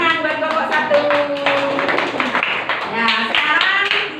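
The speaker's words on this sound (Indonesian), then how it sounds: "terima kasih, tepuk tangan buat kelompok 1" A classroom group claps for group 1 after a presentation, scattered hand claps running throughout with voices talking and chattering over them.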